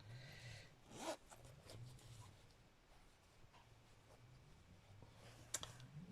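Zipper sliding on a fabric zip during sewing of a free-motion embroidered cube, with a few quiet, close rasping pulls and small clicks over soft background hum.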